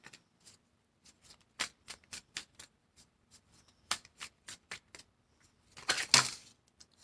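Tarot cards riffle and snap in a steady run of sharp, close papery clicks, ending in a longer, louder shuffle burst with no voices.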